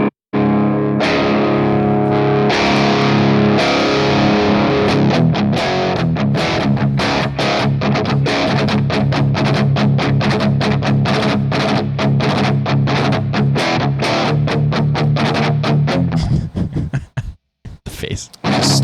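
A heavy, distorted electric guitar tone in drop D played through a Quad Cortex, with chugging, rhythmic riffing and sustained chords, loud and close, then choppy stops near the end.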